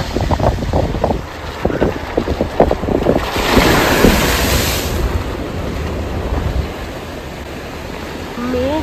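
An off-road vehicle in Ladakh splashes through water on a mountain road, a loud rushing surge in the middle with engine rumble and wind buffeting the microphone throughout.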